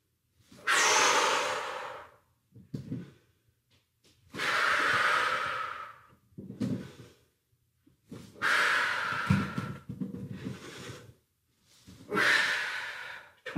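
Heavy, loud breathing from someone doing a stability ball workout, with long forceful exhales alternating with shorter sniffing inhales in a steady rhythm, close and without talk.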